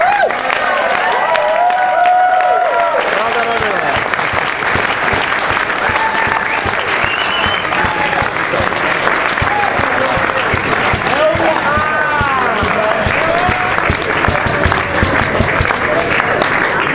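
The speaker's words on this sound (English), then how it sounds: "could I ask you to give everybody a huge round of applause?" A seated audience at a speech event gives a huge round of applause, loud dense clapping that stays strong throughout with some cheering and scattered voices mixed in.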